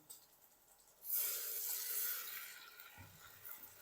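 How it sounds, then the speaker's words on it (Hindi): Water pours into a cooking pot holding dal tadka base with fresh garlic-ginger paste: a sudden soft rushing splash that swells, then tapers into a gentle sizzle, close and quiet. "और थोड़ा सा हम इसमें पानी शामिल करेंगे।"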